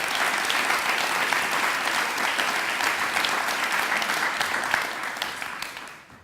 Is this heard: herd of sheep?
no